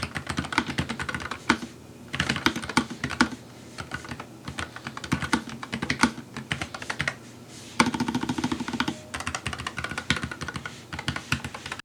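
Typing on a keyboard fitted with linear low-profile switches produces quick, continuous clacking in close bursts, with short pauses between runs of keystrokes.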